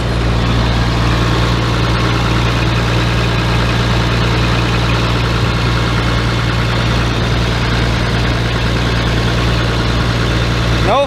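Diesel engine of a White 8700 truck idles steadily, a loud, even low rumble with a constant hum and no variation, running alone with no talk.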